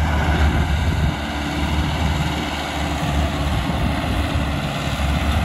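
A Mahindra 595 tractor engine hauling a loaded trolley gives off a continuous heavy low drone up close, steady throughout with slight swells in loudness and no voices.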